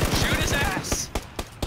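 PUBG Battlegrounds gunfire: a quick string of close shots rattles under an excited voice, then a few separate louder cracks spaced apart toward the end.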